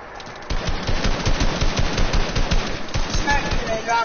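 Sustained submachine gun fire in a Fortnite-style shooter game, rapid rhythmic bursts of loud close gunshots, with players talking over the shooting.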